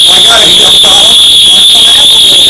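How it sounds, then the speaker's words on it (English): A fire-alarm-style electronic buzzer sounds when the throttle control is switched on at a 2001 model aircraft national championship event, a loud, steady piercing two-tone drone running the whole moment with faint background chatter beneath. "turn on my throttle control and the alarm goes off"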